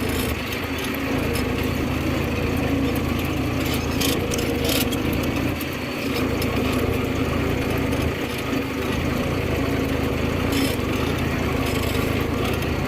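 A Deutz Fahr 55 4WD tractor pulls a Lemken plough through a field, its engine droning loud and steady throughout, with broadband rumble, occasional clattering bursts and no speech.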